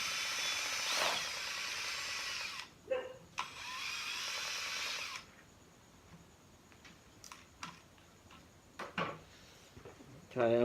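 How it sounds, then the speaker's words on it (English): A power drill in use while working on a Holden 308 V8 fitted with Holley HP EFI, with two loud bursts of whirring lasting a couple of seconds each, followed by quieter clicks and knocks of handling. "Get the drill."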